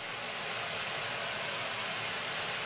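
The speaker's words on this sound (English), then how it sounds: "both overhead mics listening to that pink noise coming out of that speaker" Pink noise from a loudspeaker, picked up by overhead microphones, fills the room as a steady, even, broadband hiss that stays at a constant level throughout, with no other sounds.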